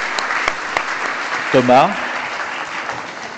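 Audience applause at the Carrefour des possibles event, steady clapping throughout with a brief voice calling out a name over it midway.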